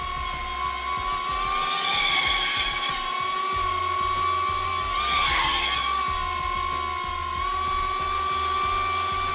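Small 5-inch FPV drone fitted with new Flywoo motors hovering at about half throttle, giving a steady high-pitched whine with a buzzing tonal drone that swells and fades slightly, close and fairly loud throughout.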